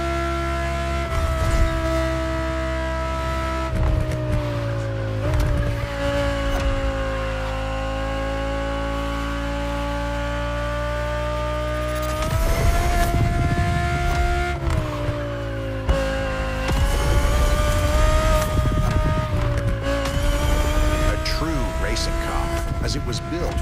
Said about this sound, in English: The 2020 Audi R8 LMS GT2.